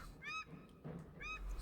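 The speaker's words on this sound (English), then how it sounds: "Those are native birds. Their screams befit the settings." Native New Zealand birds give two harsh, honking screams in a quiet forest setting by an abandoned bridge, each cry brief and distinct with a short gap between them.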